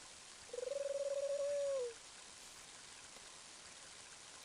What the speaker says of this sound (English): It's the bird that was delivering Hinawa's letter earlier